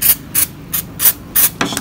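RP7 lubricant from an aerosol can is sprayed onto tissue paper in four short, sharp hissing bursts with brief pauses between, close and loud, with a small rustle at the end.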